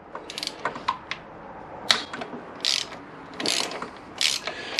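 A ratchet clicks in quick, close bursts while working two tight 10mm bolts on the cam chain guide of a Honda VFR800 VTEC, with short pauses between strokes and no talking.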